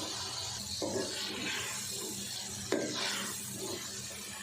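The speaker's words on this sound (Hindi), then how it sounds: "अब 2 टमाटर जिसको मैंने पेस्ट बना ली ये डाल देंगे।" Tomato paste is added to masala frying in a pan, followed by a close, steady sizzle and hiss with soft stirring and scraping.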